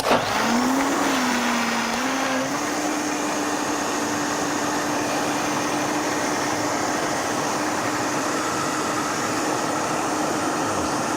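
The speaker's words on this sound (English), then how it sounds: "It has to be blended until nice and creamy." A blender whirs through a vegan carob ice cream mixture, a loud continuous motor drone with a steady hum that rises in pitch at the start and then holds even throughout.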